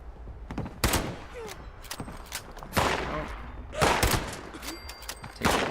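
Gunfire in the video game Fallout 76, several separate loud shots spaced about a second apart, each a sharp burst with a short tail, with quieter game sounds between them.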